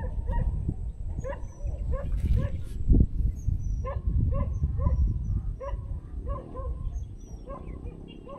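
A dog barks repeatedly in short, regular bursts at moderate distance on a fishing outing, with background noise and scattered activity around it.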